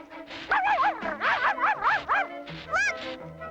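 A cartoon puppy barks and yips in a rapid run of high, bouncy woofs, pausing briefly before a final whining yelp, loud and close.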